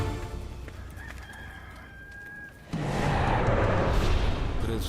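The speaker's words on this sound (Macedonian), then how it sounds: "Пред петелот изутрина да запее" A rooster crows once in a dramatised Bible story scene about Peter's denial, a drawn-out call rising over steady background ambience, followed by a louder, busier stretch of sound.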